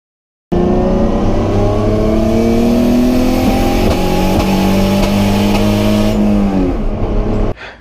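A 2JZ engine in an E46 running on a Speeduino ECU revs steadily and loudly, with a sustained engine drone near 4600 rpm that briefly cuts out from sync loss and then picks back up, heard alone with no talk.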